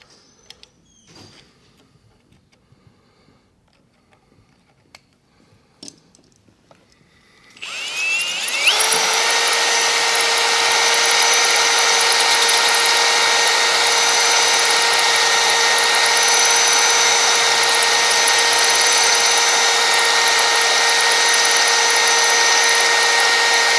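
A power drill fitted with a Matco HyperStep step drill bit grinds against very hard material, starting after quiet handling noises and then holding a loud, steady, high-pitched whine with strong ringing tones, close up and without talk.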